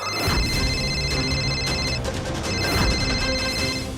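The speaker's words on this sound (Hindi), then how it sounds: "सुमन फोन उठाओ, प्लीज फोन उठाओ" A telephone rings with a steady, continuous electronic trill over a dense, noisy background, loud throughout.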